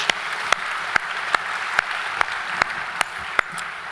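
An audience at a beef industry conference applauds to welcome a speaker, sharp claps landing in an even rhythm over a steady bed of clapping.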